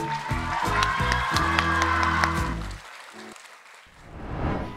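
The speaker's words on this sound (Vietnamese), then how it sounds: "Và một tràng pháo tay dành cho Uyên" Audience applause and cheering for a schoolgirl named Uyên on a Vietnamese youth TV show, clapping heard beneath loud sustained music that drops away near the end.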